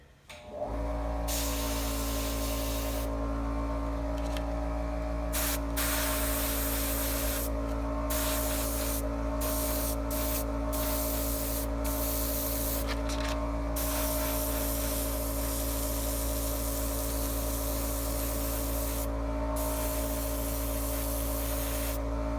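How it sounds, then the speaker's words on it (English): An airbrush sprays paint onto an Age of Sigmar Lord of Plagues miniature, a steady airy hiss over a constant compressor hum that pauses repeatedly as the trigger is released and pressed again. "Anyway, back to the airbrushing"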